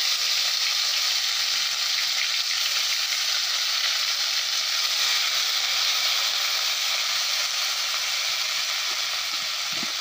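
Bay leaf, dried chilli, panch phoron and ginger paste frying in hot oil for an ash gourd and fish head curry, a loud, unbroken sizzling hiss that holds steady throughout.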